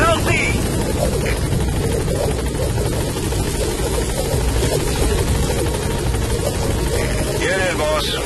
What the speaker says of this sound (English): Helicopter has arrived.